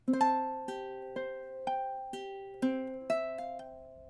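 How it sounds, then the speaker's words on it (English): A ukulele picks the opening measure of a gentle love song, single plucked notes with hammer-ons at a steady, unhurried pace, close and fairly soft, no voices. "So that first measure sounds something like this:"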